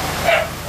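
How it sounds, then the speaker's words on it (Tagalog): A dog near a window gives a single short, yelping bark, close and brief. "Ay, may aso rin pala doon, no?"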